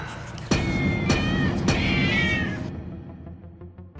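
Kittens in an indoor room meow repeatedly, several overlapping high, wavering cries layered over a loud constant background hum that fades near the end.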